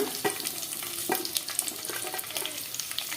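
Onions fry in hot oil in a pan for sambar, a close, continuous crackling sizzle with a few sharp clicks of stirring, no voices.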